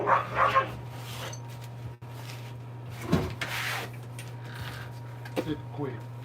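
Pug dog with a few short, sharp barks and yips that stand out against a background hum, while people talk in the same space.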